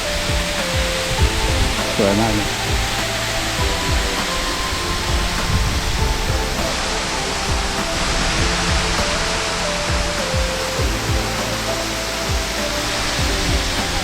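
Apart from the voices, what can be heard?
Tad Mok waterfall in Phetchabun, Thailand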